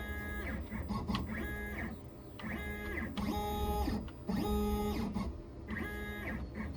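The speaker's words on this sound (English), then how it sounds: "the left joystick or the D-pad is going to move the CNC away from us or towards us or left or right" CNC machine gantry driven by a game controller: stepper motors whine in repeated bursts with stepped, rising and falling tones, starting and stopping at a steady rhythm, close and moderately loud.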